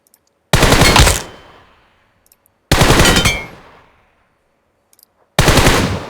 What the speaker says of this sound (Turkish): Ne kadar hızlı dokun çek yaparsanız bu makroda o kadar mermi tuttuğunuz hedefin noktasına gider.